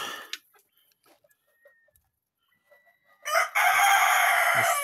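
A few faint scattered ticks, then a loud rooster crow bursts in among chickens and carries to the end, close and harsh.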